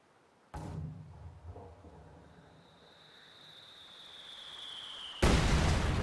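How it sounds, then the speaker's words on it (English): Heavy mortar shells land in a strategy video game battle, one booming impact with a rumbling tail, then a long whistling tone and a second loud blast at the end. "Heavy mortar continues to bombard this area"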